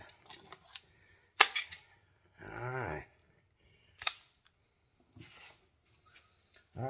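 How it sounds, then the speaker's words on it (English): An air rifle with a 6-1/4 inch barrel fires, giving a sharp close crack followed by a second snap a few seconds later, among quiet handling clicks and a short hiss of air. "Getting a little low on air, but we should be able to get some shots off"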